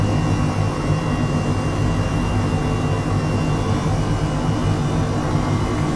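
An H135 helicopter in Microsoft Flight Simulator 2020 roars steadily as it lifts off, a loud, unbroken turbine whine over a heavy low rotor drone that stays level throughout.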